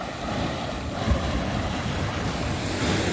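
Sand-bottom surf break at Crystal Cove at mid-low tide, with a steady broadband wash of waves rolling in and a slightly louder surge near the end, no voices.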